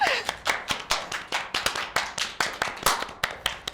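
A small group claps hands in a slow, steady rhythm, each clap crisp and close, about four per second, with no talk over it.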